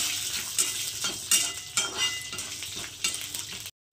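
Whole coriander seeds, two green chillies and garlic cloves fry in hot oil with a close, crackling sizzle, broken by rhythmic surges as they are stirred and the faint scrape of a utensil in the pan.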